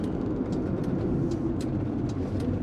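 A 1981 Mercedes 280E petrol car cruising on the highway, a steady loud wash of road and engine noise from inside the cabin with faint ticking on top.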